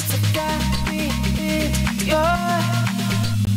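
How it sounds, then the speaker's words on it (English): Chopped, glitchy vocal effect created with a gate in Maschine over a chill house beat, stuttering harmonic vocal fragments sitting above a steady pulsing low end, loud and continuous with no talking. "today I'm going to show you how to make this glitchy vocal effect in Maschine"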